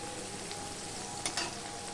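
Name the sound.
okra frying in a pan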